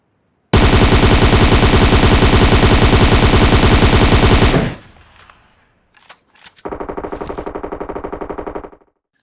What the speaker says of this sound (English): Now let's look at the recoil pattern of the M762.